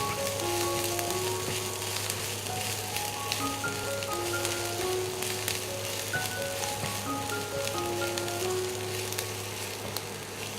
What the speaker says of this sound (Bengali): রসুন কুচি 1 চা চামচ, আদা কুচি 1 চা চামচ। দিয়ে আমি এটাকে হালকা বাদামি করে ভেজে নেব।